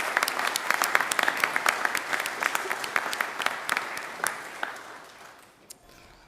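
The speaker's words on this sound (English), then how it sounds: "Let's give a round of applause for them." Applause for students at a sharing event, a room of people clapping briskly and steadily before the clapping thins and fades out toward the end.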